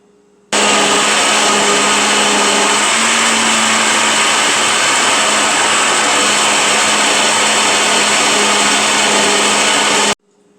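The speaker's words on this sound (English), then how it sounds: "I'm gonna blend it this amount, then add more to it and go along, so as not to, overpower this wonderful blender." An electric blender purees recaito sofrito ingredients in one steady, loud, close roar lasting about ten seconds, starting and stopping abruptly, with a slight pitch shift partway through and no talking.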